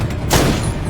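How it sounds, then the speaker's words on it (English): A gunfire burst in an action film fight scene, one loud sharp blast over a dense noisy background. "They quickly start the gunfire attacking Langston's people"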